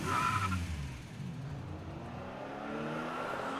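Cars driving off, engines revving loudly with a short skidding screech at first, then settling into a steadier, fading motor drone, with no talking.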